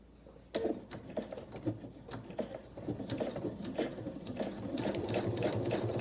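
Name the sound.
sewing machine back stitching vinyl pouch seam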